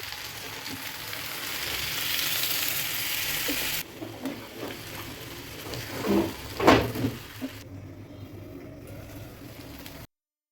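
Sago frying in a hot pan hisses loudly, then water is poured in and the sizzle breaks into bursts of bubbling and scraping stirs that fade out near the end.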